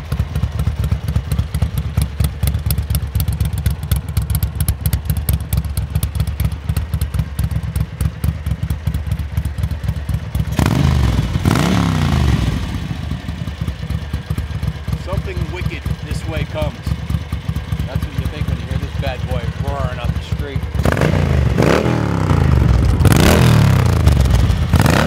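A 1980 Ducati 900 Darmah SD motorcycle rides along a street, its engine droning steadily with louder revving swells as it passes close by.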